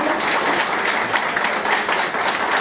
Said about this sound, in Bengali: আপনাদের জন্য একটা জোরে হাততালি